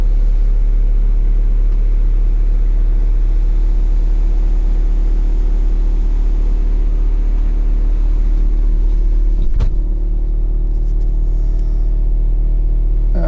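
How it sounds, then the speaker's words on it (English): An old truck's engine idles after a cold start with a steady, loud, deep rumble and constant hum, close and unbroken, with a brief click near the end and no talk. "That's a cold start."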